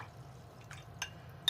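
Small drips and light liquid taps as water is added to dried watercolor paint, a few soft, close sounds in a quiet room with no talking.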